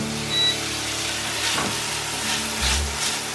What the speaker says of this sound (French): On va faire cuire nos lardons